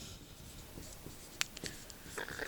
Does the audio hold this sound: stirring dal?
no